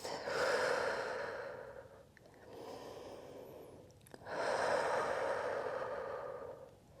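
Slow, deep breathing in through the nose and out through the mouth during a workout cool-down, two long airy breath cycles close to the microphone, each swelling and fading, with no talk.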